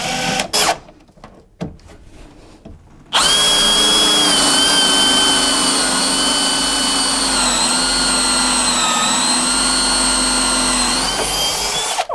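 A power tool drills holes in a galley cabinet aboard a Nauticus 27 ft cruiser boat, starting after a few faint knocks and then whining loudly and steadily at close range for about nine seconds with a slight wavering pitch.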